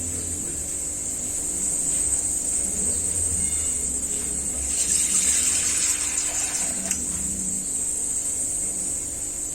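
Water runs in a steady, close stream into a container to dissolve salt for preserving lemons, with a brief brighter gush partway through and no talking.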